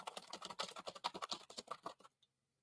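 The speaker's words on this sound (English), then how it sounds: "We have a computer with no wires. It's just a keyboard." Rapid clicking keystrokes on a wireless computer keyboard, close and steady, with a brisk uneven rhythm that stops abruptly before a brief quiet tail.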